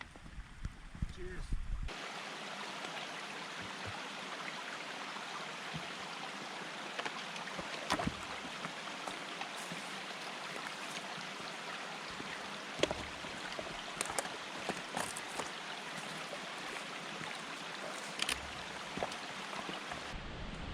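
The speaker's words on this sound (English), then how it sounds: "we've come along our first little stream" A small stream in a mountain forest trickles and flows steadily beside a backpacking trail, a constant close wash of water with a few brief knocks and footsteps on top and no talking.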